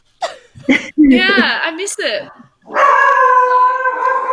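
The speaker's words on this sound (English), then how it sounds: "Sorry, that's my dog." Dog yipping and whining indoors during a video call, with a few sharp barks and a long howling whimper at the end, heard close and mixed with a person talking.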